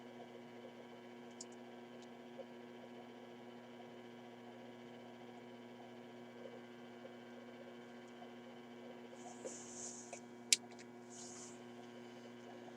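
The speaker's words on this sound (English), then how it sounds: "Getting more hum than signal out of it." Steady low mains hum from an RCA Victor 94BT1 radio being aligned, a constant faint drone with a few small clicks and a brief hiss near the end, no voices.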